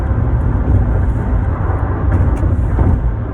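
A car speeds past as a loud, steady, broadband engine and road rumble that stays heavy in the low end, with no voices.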